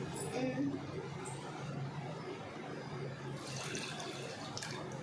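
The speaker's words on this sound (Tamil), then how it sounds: "மில்க்கும் தண்ணியும் நாங்கள் சேர்ந்து ஊற்றோம்." Milk and water pour into a pot for millet sweet Pongal, a faint liquid splash and trickle running under a woman's speech, with a brighter splashing burst near the end.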